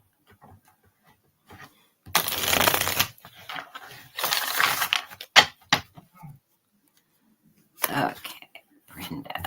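A deck of cards being riffled and shuffled in several quick bursts, fairly close, with short pauses and light handling noises between.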